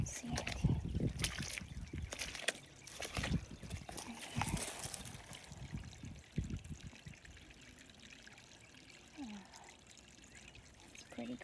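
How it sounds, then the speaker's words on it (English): Runoff water pours and trickles steadily in a small splashing fall into a pond, with some footsteps and handling noise early on, fairly faint. "Oh, here the runoff's getting stronger. We have a little waterfall."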